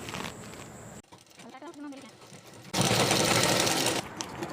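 A sewing machine stitches the shoulder seam of a nightie in loud bursts of whirring, starting and stopping, with a quieter pause in between and talk in the background.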